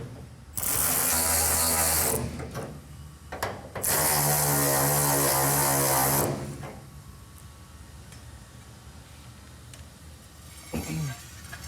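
Bolts on a 1971 Road Runner with a 440 six-barrel engine and four-speed are tightened with a power ratchet, heard as two loud, steady whirring bursts of about two seconds each, close up, followed by quiet shop background.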